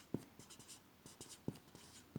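A pen writing on paper gives faint, soft scratchy strokes in short irregular bursts, close but quiet, with no talking.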